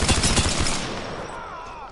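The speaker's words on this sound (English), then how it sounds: "It looked like he had a rapid fire gun." Rapid-fire gunshots from a video game burst in a quick, loud stuttering rattle that tails off into a fading echo within about two seconds.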